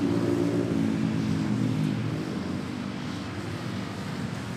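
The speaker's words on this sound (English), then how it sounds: "where do you think that military aircraft will be going?" A military aircraft flying near Manila Airport, a steady droning engine rumble that holds fairly constant and fades slightly as it passes, heard alone without talk.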